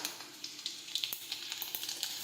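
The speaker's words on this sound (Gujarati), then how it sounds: "હવે આપણું તેલ છે તે ગરમ થઈ ગયું છે। હવે આપણે તેમાં લસણ નાખીશું, રાઈ નાખીશું, રાઈ અને જીરું નાખીશું।" Garlic, mustard seeds and cumin sizzle in hot oil, a close steady hiss broken by frequent small crackles and pops, with no one speaking.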